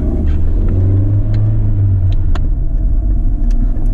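A twin-turbo supercar engine at a Zandvoort supercar event rumbles loudly and steadily nearby, with a deep low drone, faint clicks and ticks over the top and no talk.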